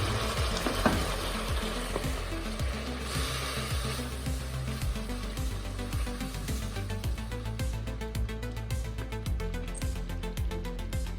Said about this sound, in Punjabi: ਜੇ ਤੁਰਦਾ ਭੁੱਜ ਗਿਆ ਵਿੱਚ ਪਾ ਲਓ ਪਾਣੀ